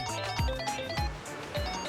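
Phone ringing in the Like A Dragon Infinite Wealth video game, a repeating electronic ringtone melody with a rhythmic pulse, moderately loud and close.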